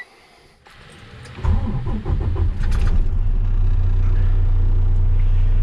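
The engine of a 2013 Freightliner Coronado highway tractor cranks briefly, catches, and settles into a steady, deep, loud idle close by.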